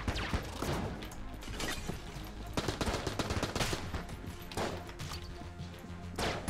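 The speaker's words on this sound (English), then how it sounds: "I was using the Tommy gun" Rapid bursts of Tommy gun fire in the video game Enter the Gungeon, with dense repeated shots and impacts over steady game music throughout.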